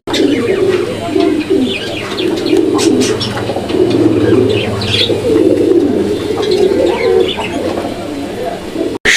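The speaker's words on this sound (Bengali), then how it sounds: "এখানে চমৎকার আরও এক জোড়া কবুতরের কালেকশন রয়েছে এটা লক্ষা কবুতর একটা জোড়া" A pair of Lakha pigeons coos steadily and loudly close by, with overlapping throaty calls running throughout, a few chirps and wing flutters, and faint background voices.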